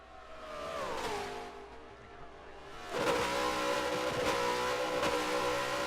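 A race car engine in a racing video game, its throttle feathered in quick on-off blips, whining up and down in pitch before a louder surge with rapid stutters, and no speech.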